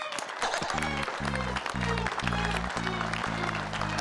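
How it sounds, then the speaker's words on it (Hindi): An audience bursts into applause, dense continuous clapping at close range with pulsing bursts of emphasis, lasting the whole stretch without speech. "तालियां।"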